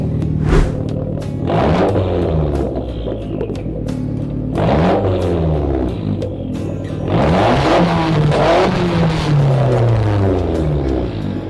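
A Proton Saga FLX car engine revs repeatedly, pitch rising and falling in several surges, close and loud with a low rumble between revs.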